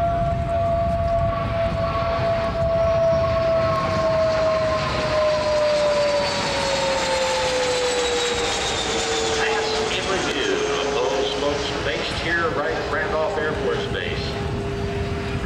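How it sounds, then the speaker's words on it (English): A Cessna T-37 Tweet jet trainer passes overhead with a loud, sustained high-pitched whine whose tone slowly drops as it goes by, and someone talks over it throughout. "you can hear its high-pitched whine as it passes overhead"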